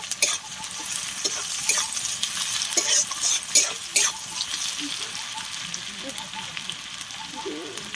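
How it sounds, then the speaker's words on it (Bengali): Chopped onion frying with halved green chilies in a pan makes a loud, continuous sizzle close by, broken by stirring scrapes and sharp crackling pops. "পেঁয়াজটাকে একটু ভেজে নেব।"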